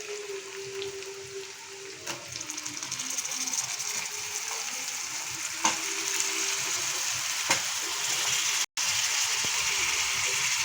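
Eggplant and tomatoes frying with onions in a pan, a steady sizzling hiss with occasional stirring scrapes and clicks, close and continuous throughout.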